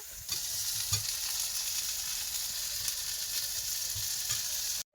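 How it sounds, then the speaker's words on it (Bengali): Chopped ginger and garlic frying in hot oil in a wok, a steady close sizzle with soft stirring bumps throughout, cutting off abruptly just before the end. "কড়াইতে কিন্তু তেল গরম হয়ে গেছে, আর এর মধ্যে আদা কুচি আর রসুন কুচি করে দিয়েছি"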